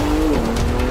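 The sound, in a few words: drag race car launching off the start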